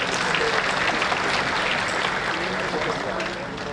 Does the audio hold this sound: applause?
yes